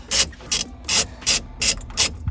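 Ratchet wrench loosening the steering wheel nut on a 1992 Mazda Miata, six crisp clicking strokes in a steady rhythm, loud and close with no talking.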